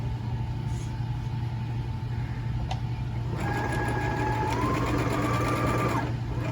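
A sewing machine back-stitches over an earlier seam on a quilted tote, its steady mechanical whir running close and continuous, with a small shift in pitch partway through.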